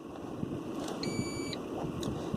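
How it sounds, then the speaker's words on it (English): A single short electronic chime from a 2020 Lexus NX 300 as its driver's seat memory position is stored, a clear tone lasting about half a second inside a quiet cabin. "So you hear that beep"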